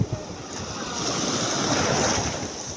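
Choppy sea waves wash and surge close by in a continuous broadband roar. Wind buffets the microphone, with a brief knock at the start.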